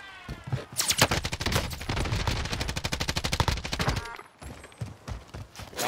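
A sustained burst of rapid automatic gunfire in Call of Duty Cold War Warzone, a PKM machine gun hammering out evenly spaced loud shots for about three seconds, then scattered single shots and distant game noise.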